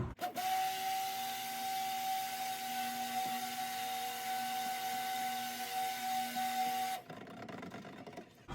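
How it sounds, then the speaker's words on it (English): A blender mixing cold process soap batter: a steady motorized whine with a sustained pitched tone runs for about seven seconds, loud and close, then cuts off leaving softer noise. "So let's hit the blender."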